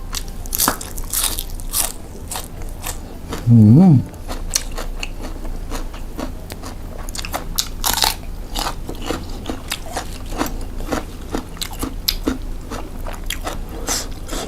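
Someone eats Thai papaya salad with thin rice noodles close to the microphone, with dense crunchy bites and wet chewing throughout, plus a brief voiced sound partway through.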